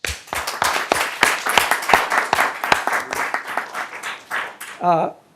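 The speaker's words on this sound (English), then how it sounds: "let's acknowledge the achievements of the VMS staff with a round of applause" Audience at a United Mutual meeting applauding the VMS staff, a short burst of many hands clapping close by, the claps thinning out before a brief voice at the end.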